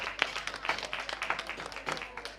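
A short round of audience applause: a few seconds of scattered, fairly close claps with uneven rhythm, and some voices faintly mixed in.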